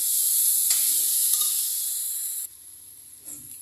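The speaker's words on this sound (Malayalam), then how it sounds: "ഇഞ്ചിയും വെളുത്തുള്ളിയും കൂടി ചതച്ച് വെച്ചത് ചേർക്കാം അതും ചെറുതായിട്ടൊന്ന് നമുക്ക് ഇളക്കി അതിൻ്റെ പച്ചമണം മാറുന്നത് വരെ ഒന്ന് ചെറുതായി ഇളക്കിയെടുക്കാം" Crushed ginger and garlic fry in a pan with a steady, loud sizzling hiss that suddenly drops quieter partway through, with faint stirring scrapes.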